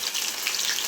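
Soya chunks deep frying in hot oil on a low flame, a steady close crackling sizzle that holds at an even level throughout.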